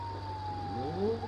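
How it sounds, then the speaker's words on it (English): A police car siren in the driving game BeamNG.drive wails faintly and at a distance, its pitch sweeping and wavering over a low engine rumble. "his siren's still going"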